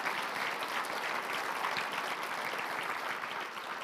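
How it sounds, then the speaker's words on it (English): A civic audience applauds steadily for a speaker at a 2025 State of the City address, a dense, even wash of clapping that holds throughout and fades slightly at the end. "give a round of applause for Dave Berger"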